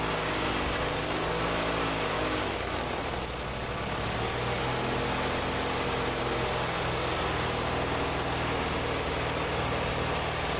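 A Simplicity Sunstar garden tractor, about 1,000 pounds, runs steadily at a constant loud drone, its engine noise filling the whole stretch without letup and with no speech heard.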